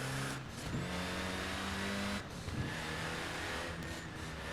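Saleen S1 engine in Forza Horizon 4 revving and accelerating in short bursts, harmonic drone climbing between shifts with brief drops, moderately loud and alone.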